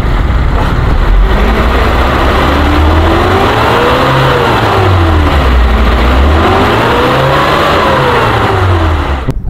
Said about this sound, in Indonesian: Suara mesinnya masih halus, enak, dipakai pun normal.